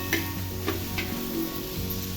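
A spoon scrapes and stirs vegetables in a hot pan, giving a few soft scraping strokes over a steady low sizzle, with no voices.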